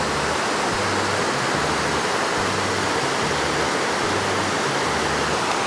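Bigar waterfall in Serbia, where the river water cascades over small tiers, produces a steady, loud, unbroken rushing roar with no voices.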